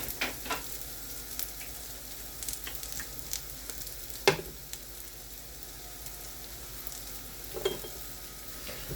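Shallots or red onion fry in oil until crispy, giving a soft, even sizzle with occasional spatula taps and scrapes against the pan in a quiet home kitchen.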